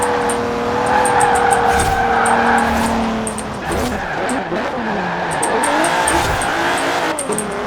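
Alfa Romeo Stelvio SUV racing in Forza Horizon 4, a steady loud engine drone with shifting pitch, tire squeal and other cars passing, continuous throughout with faint voice traces underneath.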